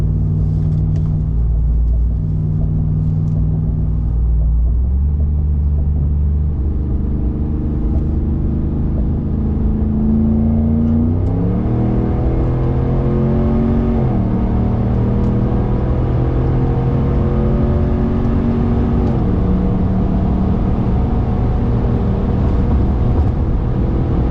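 A Ram 1500 pickup truck engine drones steadily and climbs in pitch as it accelerates onto a highway, with a few audible gear shifts, heard from inside over a constant road rumble.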